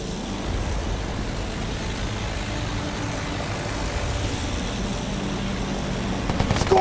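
An airplane drones overhead in a video game, a continuous low engine rumble that holds steady and swells slightly toward the end, with no talking.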